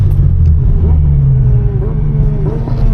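A 700HP supercharged Infiniti G37 accelerating on a back road, heard from inside as a loud, deep engine rumble with rising whine as it pulls hard.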